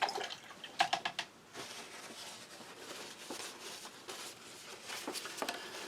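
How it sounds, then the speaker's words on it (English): Water from a tap runs and splashes as a spoon is rinsed, with a few clinks and drips early on, then a steady soft patter of running water throughout, fairly quiet and close. "Okay, let's rinse that spoon."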